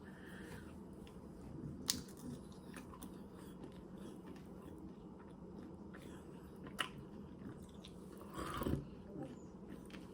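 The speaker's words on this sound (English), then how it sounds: "Oh, okay, I'm gonna take a bite." A bite into a Cadbury Dairy Milk Fireworks bar, light milk chocolate with colourful popping candy. A few crisp snaps land close to the mic over a steady low background hum, and a short crunchy burst follows near the end.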